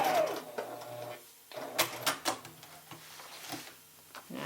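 A sewing machine stitches off the end of a quilt's binding with short, quiet mechanical bursts and pauses, close by and without talk.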